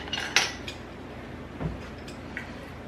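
A measuring spoon stirs stew sauce in a 5-quart or larger slow cooker, giving a few light metallic clinks and scrapes against the crock, with one brighter clink early and soft knocks after, quiet and close.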